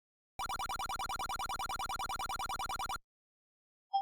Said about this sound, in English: I think that was just a phone notification, actually.